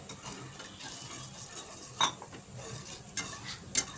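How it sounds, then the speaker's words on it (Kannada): Pineapple cake jelly mixture being stirred in a pan on the stove, with quiet scraping and a few faint clinks of a utensil against the pan, alone without talk. "ಚೆನ್ನಾಗಿ ಮಿಕ್ಸ್ ಮಾಡ್ಕೊತಾ ಹೋಗ್ತೀನಿ ನಿಧಾನವಾಗಿ"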